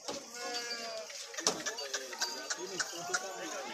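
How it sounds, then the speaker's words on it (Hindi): Heavy sheep on a farm bleat repeatedly, several overlapping wavering cries at close range, with a few sharp clicks and knocks among the animals. "बड़ी बड़ी भेड़ें"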